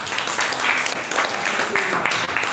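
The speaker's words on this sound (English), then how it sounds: "Please, let's give him a round of applause." Audience applause for a guest speaker at a livestreamed African tech network event, a short, steady patter of clapping from a crowd with some voices mixed in.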